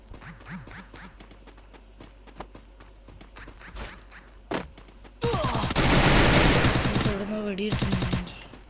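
Gunfire in the Free Fire video game: sparse shots early on, then dense, loud automatic bursts of fire near the end, with game sounds in between.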